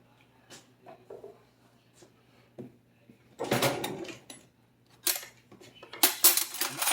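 Metal spoons and utensils rattle and clink in a kitchen drawer, with a few faint knocks first, then louder bursts of jangling cutlery close by.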